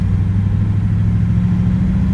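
1957 Ford Fairlane with a three-on-the-tree manual transmission, cruising with a steady low engine rumble, close and fairly loud, with no voices.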